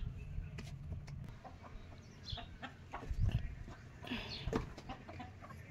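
Soft hen clucks scattered through a noisy outdoor farmyard, fairly faint, with a few louder bursts and low background rumble.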